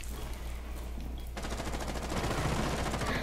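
Gunfire through a wall in Rainbow Six Siege breaks into a rapid, dense automatic burst of loud shots partway through, over a constant game background rumble.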